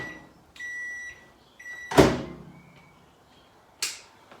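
Microwave oven heating coffee: a couple of steady hums and electronic beeps, then a sharp clunk of the door opening and another click near the end, fairly close.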